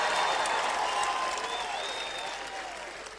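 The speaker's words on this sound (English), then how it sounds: "Come on, ladies, clap for me just for a couple seconds here." An audience claps along at a motivational leadership talk, a steady patter of many hands that holds strong and slowly fades, with no words spoken.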